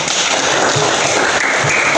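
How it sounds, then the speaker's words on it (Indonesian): A classroom of students applauds together, giving a steady, loud wash of clapping that holds without pauses for the whole stretch, close by and with no talking over it. "tepuk tangan dulu untuk kita semua"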